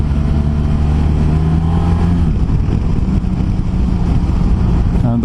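An Indian Scout Bobber motorcycle accelerates hard in second gear, its engine giving a loud, steady, close-up roar that holds for several seconds.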